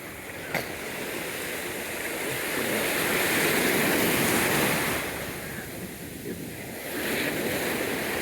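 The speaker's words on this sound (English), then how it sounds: "Big old wave." Rough ocean surf breaking at a beach, a steady roar of waves that swells louder mid-way and eases again, with gusty wind buffeting the microphone throughout and no talking.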